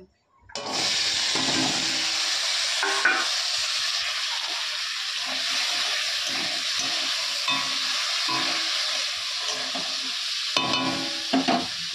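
Bitter gourd and pumpkin fry in a pan with a steady, close sizzle, broken by stirring scrapes and small clinks from a utensil, with no talking.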